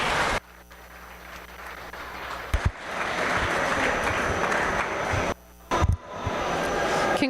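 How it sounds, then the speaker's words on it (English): Audience applause at a 2025 meat goat show for the young winners, a broad steady clapping wash lasting several seconds with brief breaks and a couple of sharper bumps, moderately loud across the hall. "let's go ahead and give those kids a nice round of applause"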